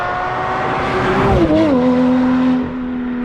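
Porsche Boxster engine revving loudly and close, its pitch climbing, dipping briefly, then holding a steady high drone through a sporty exhaust.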